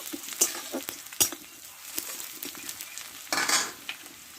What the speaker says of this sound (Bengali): দেখো পেঁয়াজটা একটু ভালো করে লালটি করে ভেজে নেব